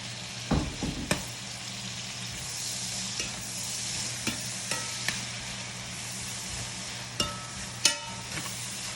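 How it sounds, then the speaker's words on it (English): Chopped leeks cooking in oil in a pan, a soft steady sizzle with several sharp clicks and clatters of a utensil stirring and scraping against the pan, no talking. "So the leek you want to cook until it's pretty soft."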